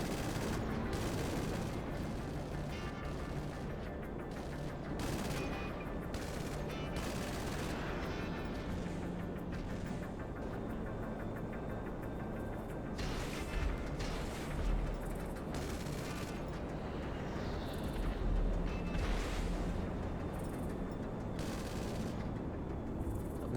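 ARC-170 starship cannons firing in a modded GTA 5 flight: continuous dense barrage of blasts and booming shots over a constant engine roar, loud and unbroken throughout.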